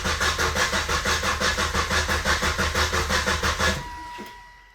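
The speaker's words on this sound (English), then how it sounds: "it cranked for a very long time" A Volvo engine cranking for a long time, the starter churning in an even rhythmic pulse of about four beats per second, then cutting off into a brief fading hum without the engine catching.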